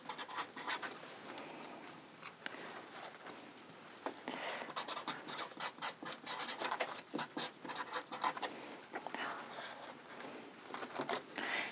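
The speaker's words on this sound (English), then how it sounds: "I love these little wood ones, and I just write what it is" A pen writes on small wooden plant tags in a homestead garden, producing a steady close scratching with short, repeated strokes throughout and no talking.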